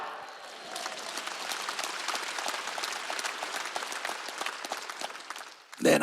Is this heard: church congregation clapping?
yes